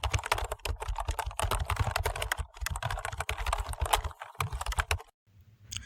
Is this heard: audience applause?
no